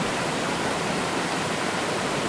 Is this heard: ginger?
no